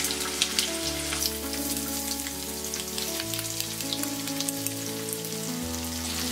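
Sliced onions fry in hot oil with a continuous crackling sizzle under a low steady hum, close and even throughout, no talk.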